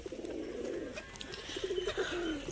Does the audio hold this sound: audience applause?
no